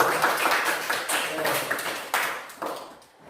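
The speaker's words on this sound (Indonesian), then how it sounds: "tepuk tangan untuk Sentana dan Jaya" Students in a classroom clap for two classmates, a short burst of scattered hand claps with speech mixed in, fading toward the end.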